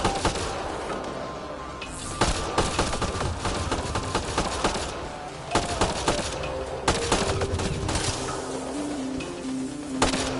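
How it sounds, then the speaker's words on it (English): Mass Effect Andromeda combat gunfire, a steady crackle of rapid shots with sharp louder cracks scattered across ten seconds, layered over a busy, droning battle backdrop. "Incoming fire!"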